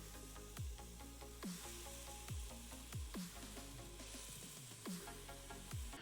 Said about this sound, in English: So this is nice and hot now, ish. So we're gonna drop the onions, garlic,